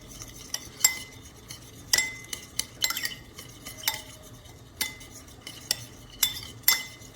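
Sauce mixed with a little vinegar stirred briskly in a bowl, with sharp spoon clinks and scrapes against the bowl in an irregular series over a quiet background.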